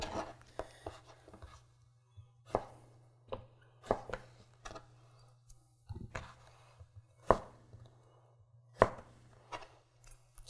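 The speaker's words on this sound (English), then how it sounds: "we can actually just go like this, cut some planks, and we could turn this into some fried zucchini sticks" A Damascus steel chef's knife slices zucchini into planks on a cutting board, producing a steady series of crisp, close chopping thuds with a low hum running beneath.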